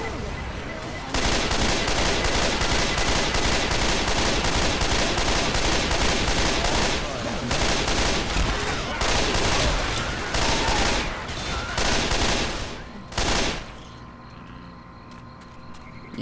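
Shotgun blasts fired at zombies in Left 4 Dead 2, a loud, dense run of rapid shots that goes on for about twelve seconds, then a final burst before things fall quieter.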